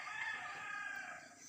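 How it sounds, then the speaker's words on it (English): A rooster crows in a village at morning, one sustained call at moderate distance with other birds faintly behind, and no talking. "You can hear all the roosters."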